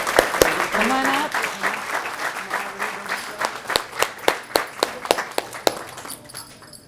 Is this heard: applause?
yes